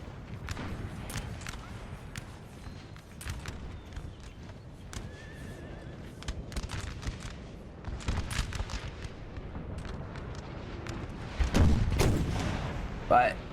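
Artillery fire booms repeatedly in a Napoleonic battle game set at Auerstedt, with sharp distant cannon reports scattered through a busy background of horses neighing and hooves clopping, growing louder and denser near the end.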